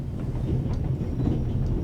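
A train runs on rails in The Raven Remastered, a low rumbling roll with steady rhythmic clatter that continues throughout at moderate loudness.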